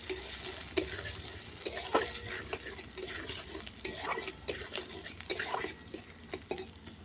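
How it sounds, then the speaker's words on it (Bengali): Chopped onion and green chilli frying in a pan for a Bengali potato, aubergine, bori and spinach dish, with a steady low sizzle under repeated sharp clicks and scrapes of a spatula stirring against metal, close and alone. "পেঁয়াজ লঙ্কাটা ভাজা ভাজা করে ভেজে নেব।"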